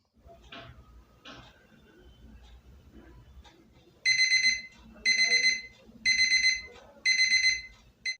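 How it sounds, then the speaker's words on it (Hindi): An alarm clock goes off at 3 AM in a quiet room, sounding four loud, evenly spaced bursts of bright electronic beeping, with faint room noise and small movements between them. "जिस मकसद से अलार्म हमने लगाया है"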